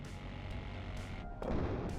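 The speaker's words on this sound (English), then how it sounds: "Bombs dropped." Bombs from an F-15 Strike Eagle explode in the war strategy video game WARNO: muffled, rumbling booms roll together, and a sharper, heavier burst lands near the end.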